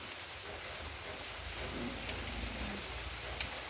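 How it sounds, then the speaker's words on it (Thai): Rain falls steadily during a storm, a constant, even hiss of drops hitting surfaces that stays faint and uninterrupted, with no voices. "วันนี้ฝนตก พายุเข้าเนาะ"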